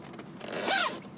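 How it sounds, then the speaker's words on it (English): A zipper slides shut on a fabric storage pocket inside a Jeep Wrangler, one quick close rising and fading over about half a second, near and clear against a quiet background. "zip it right back up."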